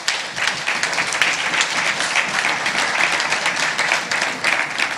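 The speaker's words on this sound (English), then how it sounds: "a round of applause for the awardees" Audience applauding awardees at an education achievers award ceremony, dense continuous clapping at an even, fairly loud level throughout.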